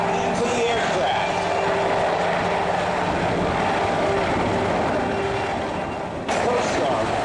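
Coast Guard rescue aircraft flying at a beachfront air show, a loud continuous engine drone with a rotor-like throb that holds steady throughout, with announcer talk over it and a brief dip near the end.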